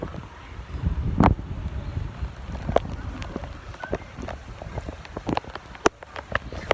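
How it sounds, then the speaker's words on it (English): Rain falling on a cold day in Karachi with city towers in view, a steady soft wash of drops broken by scattered sharp taps and splashes, heard close and moderately loud with no talking. "Actually, it's currently still raining."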